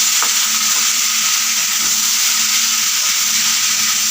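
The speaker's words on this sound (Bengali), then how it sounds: "সেদ্ধ করে জলটা বের করে দিয়েছি এবার নাড়াচাড়া করতে থাকবো" Boiled taro stolons being stirred in a hot pan, giving a loud, steady sizzle with occasional soft scrapes of the spatula, close up and without talk.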